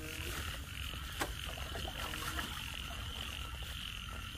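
Frogs croak faintly and repeatedly outdoors beside a lathe workshop, over a low, steady background hum. No one talks.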